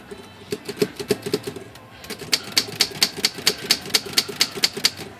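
Underwood 5 manual typewriter's ribbon drive mechanism turned by hand, giving a steady run of sharp, close mechanical clicks in an even ratcheting rhythm.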